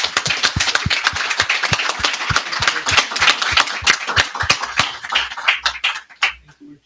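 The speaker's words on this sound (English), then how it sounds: "Can we give Judge Docter a round of applause?" Audience at a judge's event gives a round of applause: sharp, fairly close clapping in a quick uneven rhythm, thinning out toward the end with a few low bumps as it stops.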